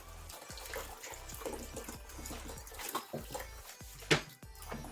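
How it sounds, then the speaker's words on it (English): Cold water poured from a tap over freshly cooked pasta, a soft, uneven splashing and gurgling with a sharper splash near the end, fairly faint and without speech. "I shall pour cold water over it to prevent the carry around cooking."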